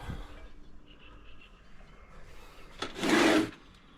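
A single brisk wiping rub on window glass, a short squeaky swipe lasting about half a second, after a quiet stretch with a faint tap.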